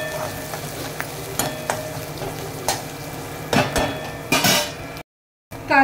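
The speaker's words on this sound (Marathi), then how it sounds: "आपण याच्यामध्ये टाकूया कांदा। कांदा चांगला आपण लाल करून घेऊया" Chopped onion frying in hot oil in a pan for a Maharashtrian ridge gourd vegetable, a steady sizzle broken by sharp scrapes and clinks of a spoon stirring against metal, then a brief silent gap before the frying resumes.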